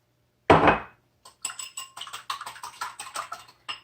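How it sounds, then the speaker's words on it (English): Eggs are whisked in a bowl for lemon pancake batter, heard as one sharp clatter followed by a quick run of light, rhythmic clinks, close and clear with no talking. "So just whisk your eggs."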